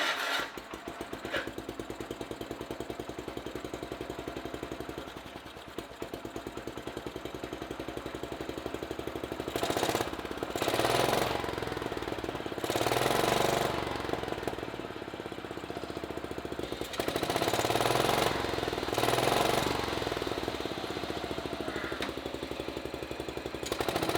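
A small gasoline lawn mower engine, freshly restarted after a carburetor cleaning in an indoor shop, runs with a rough continuous chugging drone that swells into louder bursts of revving, steady throughout the clip with no talking.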